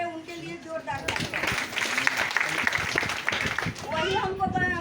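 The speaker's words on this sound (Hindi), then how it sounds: "जयंती मैडम के लिए, उनके लिए जोरदार ताली" An audience claps loudly for Jayanti madam at a seminar, a dense burst of applause that swells through the middle, with voices speaking over it at the start and end.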